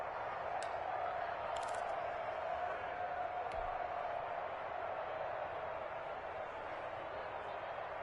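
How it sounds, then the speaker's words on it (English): A distant, continuous roar of a large stadium crowd at an American football video game fills the background, steady and dense without distinct voices, at a moderate level. "Listen to this crowd now."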